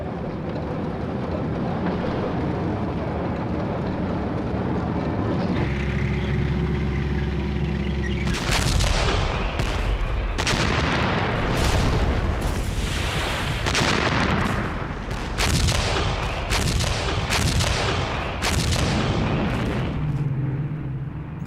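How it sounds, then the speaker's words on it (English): World War II battle sounds at Arnhem: loud repeated gunfire and artillery bursts, a rumbling build-up followed by a dense series of sharp booms and shots in quick succession. "they were cut to pieces by German fire"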